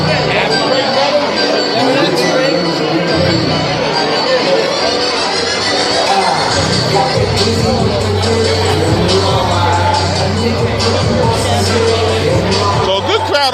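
Crowd murmur and scattered shouts at a live boxing night at Michael's Eighth Avenue, a steady, loud hubbub of many voices filling the hall throughout, with a low hum beneath.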